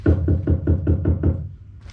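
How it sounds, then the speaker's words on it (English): Seven steady knocks on a door in a stage play, heard loud and close in an even rhythm, then stopping, with no voices over them. "No, I heard knocking."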